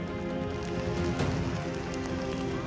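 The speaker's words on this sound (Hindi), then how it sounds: "भयंकर बारिश के आगे सिस्टम सरेंडर हो चुका है।" Heavy monsoon rain pours steadily during flooding in Maharashtra, a dense, continuous wash of close, loud downpour with no voices.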